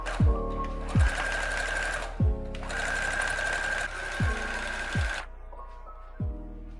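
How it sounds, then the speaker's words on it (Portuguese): A sewing machine stitches around the edge of a kitchen apron in several motor bursts of a second or two each, with pauses between. It is close and steady, with no talking. "já fiz a costura em toda a volta do avental"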